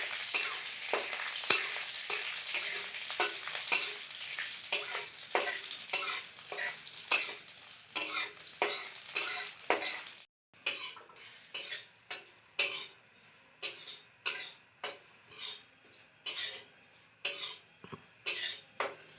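Black cumin seeds and green chilies fry in hot mustard oil in a kadai: dense crackling and sputtering at first, thinning into sharp, spaced pops and stirring taps, close and unaccompanied by talk.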